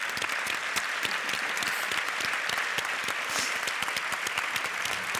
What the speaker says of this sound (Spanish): Y con un aplauso yo creo que esto se lleva mejor.